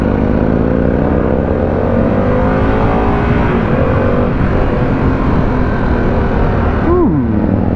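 A Harley-Davidson Pan America adventure motorcycle engine drones loudly and steadily while riding in road mode, its pitch rising and falling as it accelerates, with a brief rising whine near the end.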